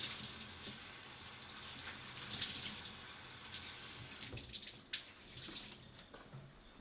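A paper towel is rinsed under a running kitchen tap, giving a quiet, steady stream of water with soft splashing that continues throughout.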